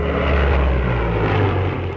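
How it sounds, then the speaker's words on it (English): Rolls-Royce Merlin-era Spitfire propeller aircraft engine, a loud, steady droning roar with deep throbbing harmonics, close and continuous throughout with no talk. "And that engine there allowed the Spitfire to do 350 mile an hour."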